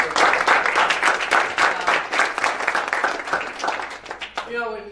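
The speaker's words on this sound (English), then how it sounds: "I want to give them a big round of applause" An award-night audience at a high school hockey banquet breaks into loud, sustained applause for the coaches, dense clapping filling the room before tapering off near the end.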